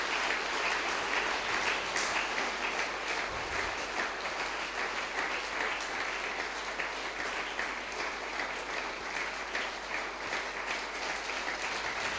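Church congregation applauding together during a worship service, a steady dense wash of clapping from many hands that holds at an even level throughout, with no talk over it.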